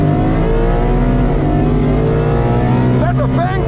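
A modified Mustang GT named Apollo roars loudly on a race track, its engine droning steadily with a deep harmonic growl, then rising in pitch as it revs up near the end.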